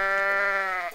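A single loud goat bleat from the video game Goat Simulator, a steady nasal cry lasting about a second that wavers and fades at the end.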